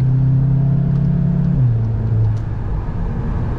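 A BMW Series car accelerates along a motorway acceleration lane, a loud steady engine drone rising in pitch and then settling into road noise.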